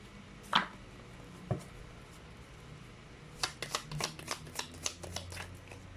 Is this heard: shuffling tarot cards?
yes